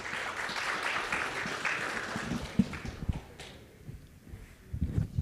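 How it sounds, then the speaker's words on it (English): An audience at a congress in Miami gives a short round of applause for Senator Leszniak of New Jersey, moderately loud clapping that thins out into scattered claps and taps. "Round of applause for Senator Leszniak."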